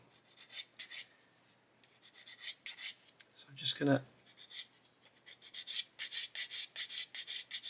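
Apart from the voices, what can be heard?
sanding with a sanding stick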